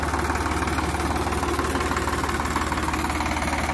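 A tractor engine runs steadily while stuck in a muddy field, a loud, continuous, throbbing rumble with a knocking pulse and no break, heard alone without speech.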